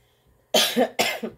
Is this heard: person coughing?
yes